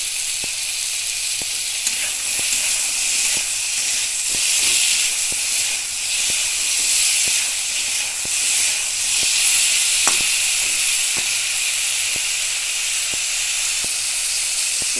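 Ridge gourd frying in a pan gives a steady, bright sizzle and hiss, with faint ticks of spattering oil throughout, close and unbroken, with no voices.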